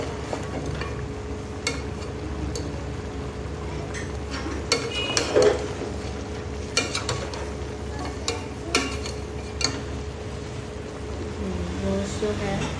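Scattered scraping and clinking of a spoon stirring meat in a cooking pot while preparing namkeen gosht, irregular knocks over a low steady background hum, with a few soft sharper taps.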